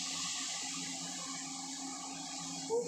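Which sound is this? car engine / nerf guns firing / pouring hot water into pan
pouring hot water into pan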